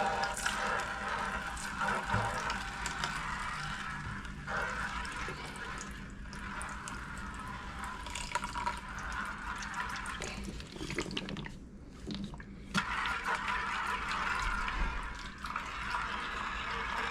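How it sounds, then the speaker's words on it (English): Prospecting material and water are poured from a bucket into a gold pan, a continuous sloshing, trickling pour with shifting splashes and brief pauses, up close and alone. "I'm going to transfer it from this bucket to this pan."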